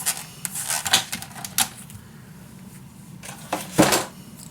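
Paper strips are cut for a handmade mini album, a few close snips and crisp paper rustles separated by quiet pauses.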